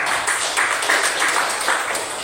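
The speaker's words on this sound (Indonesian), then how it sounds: "tepuk tangan untuk Natasha." A classroom of students applauds for Natasha, a dense, continuous wash of many hands clapping at once, fairly loud and even throughout.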